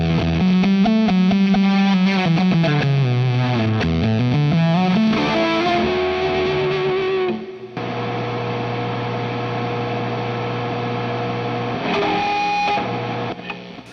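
An electric guitar runs through a JHS Ruby Red overdrive pedal, producing sustained, heavily driven notes with bends and a sliding line, then a held distorted chord that rings out loudly with no voice over it.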